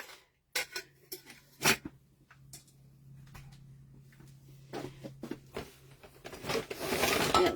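A metal cooking pot clanks and knocks in scattered bursts, a few sharp close hits among quieter handling noises, with a low hum underneath.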